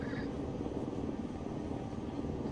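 A military aircraft drones steadily in flight in the combat simulator ArmA III, a continuous dense engine and rotor-like rumble at moderate volume, with a brief faint voice at the start.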